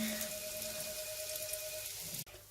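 Beignets made from a magic batter frying in hot oil, a steady crackling hiss with a faint whine, holding level for about two seconds before a brief sharp drop and a quieter return.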